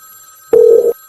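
A telephone rings once with a steady electronic tone before a call is answered, loud and close, with no talk over it.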